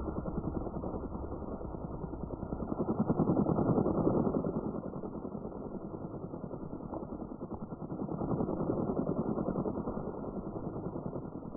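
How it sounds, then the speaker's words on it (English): Low, steady helicopter rotor drone in the DayZ game, swelling and fading twice as the aircraft circles overhead; continuous and fairly loud with no talk. "if the helicopter does still circle around"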